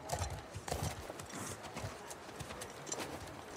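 Horse hooves clip-clop at a steady walking pace while riding in The Last of Us Part 2, with a brief whinny and scattered game ambience, at moderate volume without talk.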